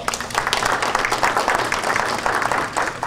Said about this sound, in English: let's give a round of applause for Shola Salako